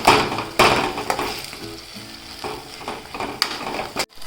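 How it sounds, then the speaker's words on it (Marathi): Goda masala with tomatoes and coriander roasts in oil for misal, a close, bright sizzle broken by repeated sharp scrapes and knocks of a spoon stirring the pan. "गोडा मसाला चांगला हलवून घेते त्याला"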